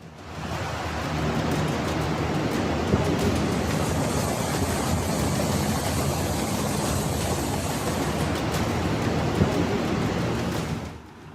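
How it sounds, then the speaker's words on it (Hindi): Fast floodwater carrying landslide debris rushes down the Sarvari stream in Kullu, Himachal, a loud, steady broadband roar that holds unbroken throughout with no voices. "भूस्खलन के बाद सरवरी नाले में तेज बहाव है। पानी के साथ तेजी से मलबा बह रहा है।"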